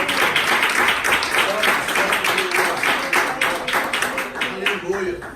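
A church congregation claps for Jesus, a loud, sustained burst of applause with distinct rhythmic hand claps, while voices call out over it.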